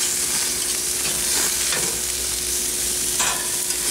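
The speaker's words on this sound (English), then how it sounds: "We're gonna sear these for a minute or two on each side," Beer cheese brat burgers sear on a hot cooking surface, giving a loud, continuous sizzle close up. Faint scrapes and shifts of the patties come through, and no voices are heard.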